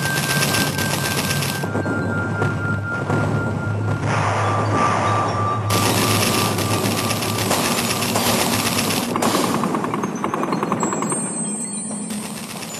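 Sustained German machine gun fire in a World War I trench battle against British troops, a dense continuous loud rattle of rapid bursts with layered gunfire and rumbling throughout, no speech.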